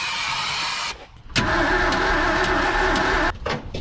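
1978 Ford F250 crew cab, long abandoned and with a stuck engine, cranks without starting: a steady starter whir, a brief pause, then a second longer crank, close and loud with no voices.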